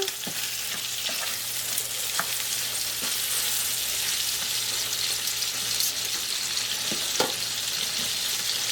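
Pork chops browning in butter in a pan give off a constant, close frying hiss, with occasional soft clicks and pops from the pan and utensil. No voices are heard.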